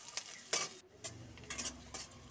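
Onions fried and stirred until browned, with several short scraping strokes of a spoon against the pan over a faint sizzle, close by.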